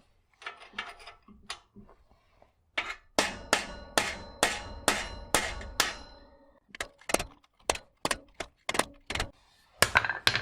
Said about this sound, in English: It's time for a bit more hammering.